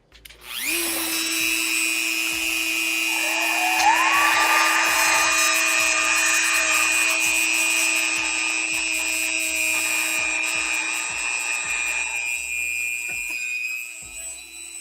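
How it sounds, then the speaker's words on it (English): A Dremel 4000 rotary tool runs steadily for nearly the whole stretch, a loud, close, high-pitched whine that shifts pitch slightly as it cuts all the way through a workpiece, then winds down near the end. "Now, you're playing with power. The Dremel 4000."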